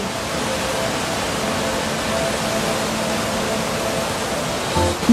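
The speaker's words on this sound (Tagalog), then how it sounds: "Malakas na hampas ng hangin at matinding buhos ng ulan." Strong wind and heavy pouring rain during a storm lash the area around a school in the Cordillera, forming a loud, steady, unbroken roar that holds for the whole stretch with a small knock near the end.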